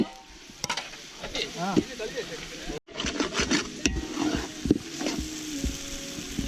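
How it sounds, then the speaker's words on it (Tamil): Onions sautéing in a pan over an outdoor fire in a forest during chicken biryani preparation, with sizzling and stirring scrapes under frequent nearby talk and one brief silent gap. "வெங்காயம் தான் முதல்ல ஃபர்ஸ்ட் நமக்கு வதங்கணும்"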